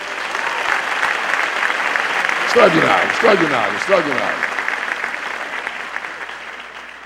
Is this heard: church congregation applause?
yes